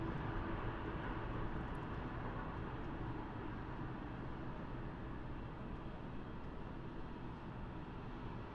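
A Qantas airliner moves at Melbourne Airport, a steady broad engine roar heard from a distance, constant and unbroken throughout.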